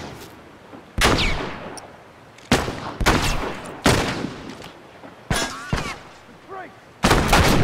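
Gunfire from The Last of Us Remastered: loud, close bursts of shots crack out in several separate volleys, with short pauses between them and a final burst at the end.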